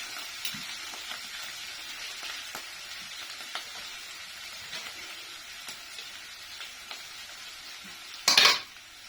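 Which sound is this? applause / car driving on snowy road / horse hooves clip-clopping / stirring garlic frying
stirring garlic frying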